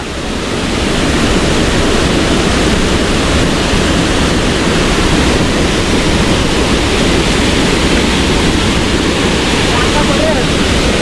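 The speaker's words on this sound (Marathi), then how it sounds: "पाणी बघा किती जोर भरपूर आहे पाण्याचा लोड बघा केवढा वाढलाय" A flooded river in monsoon spate rushes past with a loud, constant roar of turbulent water, steady and close, with possible faint voices underneath.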